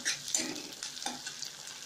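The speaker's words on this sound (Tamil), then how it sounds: "வெங்காயம் இது நல்லா வதக்கிக்கலாம் ஒரு நிமிஷம் நல்லா வதங்கட்டும்" Onions sauté in a hot pan, a soft crackling sizzle broken by a few scraping stirs of the spoon.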